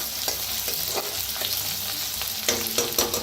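Ingredients dry-roasting in a pan for a Marathi-style karadi greens dish, a dense crackling sizzle with rhythmic stirring scrapes of a spatula, close up and uninterrupted by speech.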